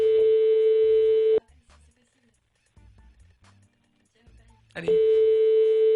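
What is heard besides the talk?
telephone call ringing tone while dialing a caller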